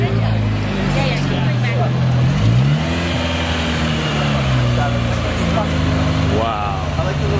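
Turbocharged Ford Escort RS engine revving at a cars and coffee meet, rising and falling engine tones under excited nearby talk from onlookers.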